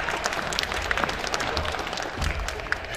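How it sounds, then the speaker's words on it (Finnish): Applause at the opening of the American Car Show 2018 in Finland, a brisk, continuous clatter of many hands from a gathered audience, moderately loud and steady over three seconds with no speech. "Luppe ansaitsee aplodit tähän avajaiseksi heti kätteen"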